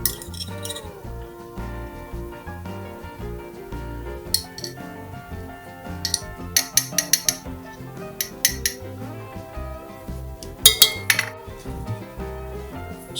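Utensils clink against a bowl while marinade ingredients such as juice, cayenne pepper and chopped fresh garlic are stirred together, with irregular sharp taps and scrapes over quiet background noise.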